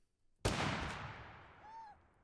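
A sawed-off shotgun and a revolver firing in the Totally Accurate Battle Simulator video game: one loud, sharp close blast followed by a long, slowly fading reverberant tail.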